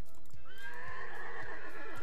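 A horse in the game Minecraft gives one loud, close neigh that rises and then wavers, with soft hoof clops beneath it.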